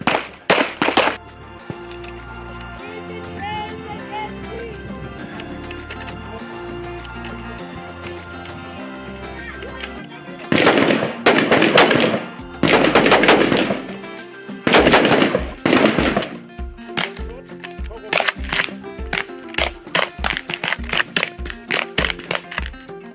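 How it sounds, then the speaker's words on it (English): South African Police Service trainees firing weapons at a training range: loud sharp shots in clustered volleys and quick bursts, some spaced single reports, over background music. "trainees will be demonstrating to us the different parts of the firearm and how to shoot accurately"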